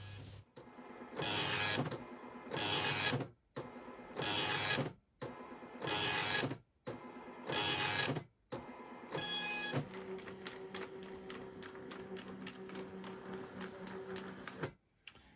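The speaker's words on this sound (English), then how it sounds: "the printing will soon be finished and your pattern will have completed printing out" A Brother PPD-110/120 pattern programming device prints a knitting pattern, producing loud repeated mechanical printing bursts separated by short pauses, then a steadier, busier run of rapid clicking with a faint hum, with no talk.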